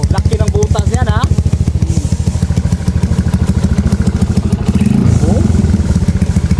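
A Yamaha Crypton R motorcycle engine runs close and loud with a fast, rattly pulsing beat and short revs, while someone talks over it.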